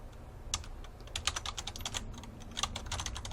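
Keys on a computer keyboard are typed quickly and continuously while text is entered in a Word document, with close, crisp clatter throughout and no talk.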